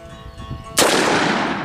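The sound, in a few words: Colt Lawman .357 revolver gunshot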